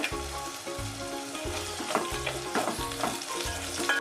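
Chopped onions and green chilies sizzle in hot oil in a pan with pulao spices, frying loudly and steadily while a spoon scrapes and stirs in repeated rhythmic strokes close by.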